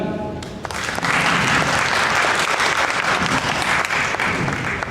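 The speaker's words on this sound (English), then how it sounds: "to conduct it with a thunderous round of applause" An audience at a youth leadership program breaks into loud, sustained applause to welcome a speaker, dense clapping holding steady from start to finish with no talk over it.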